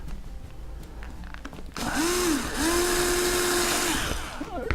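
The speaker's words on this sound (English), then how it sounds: "So let me get this drilled, and we'll get these ready." A power drill bores into parts of an H 540 quadcopter frame kit, with a loud whirring burst whose pitch rises and falls as the bit cuts, after a quieter lead-in.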